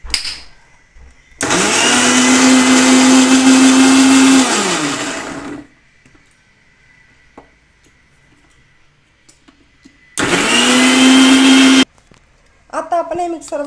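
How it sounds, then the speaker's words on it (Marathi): An electric mixer grinds muskmelon with dry fruits, cream, milk and sugar in two loud, close bursts, one of about four seconds and a shorter one later, with quiet gaps between them and brief talk at the end. "आता आपण हे मिक्सरमधून बारीक करून घेतलेले"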